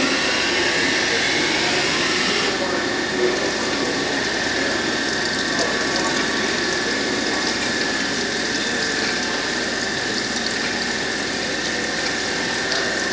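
CNC mill cutting an aluminum Hohner harmonica comb with an end mill and flood coolant, a steady hissing, washing machine drone that holds evenly throughout at moderate level.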